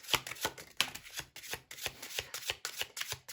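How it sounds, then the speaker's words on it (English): Oracle cards being shuffled by hand close to the microphone, a rhythmic series of crisp riffling and slapping bursts roughly every third of a second, with no talking. "I'm guided to keep shuffling"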